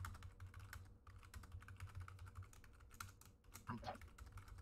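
Rapid keyboard typing in the video game Buckshot Roulette, a steady run of small clicks under a low hum of background game audio, with no talking.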